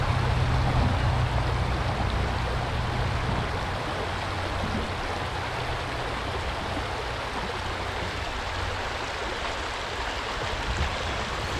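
River rapids rush in a dense, continuous broadband roar, loud and close, with a low rumble underneath and no voices.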